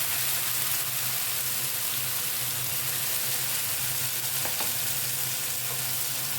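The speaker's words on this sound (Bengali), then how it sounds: "এবারে এর মধ্যে আমি বেটে রাখা আদা, রসুন, কাঁচা লঙ্কা এবং টমেটোর পেস্ট এর মধ্যে দিয়ে দিলাম।" Ground ginger, garlic, green chilli and tomato paste sizzle in oil with browned onions for paneer mixed dal tadka, a constant close crackling hiss with a faint low hum beneath and no voices.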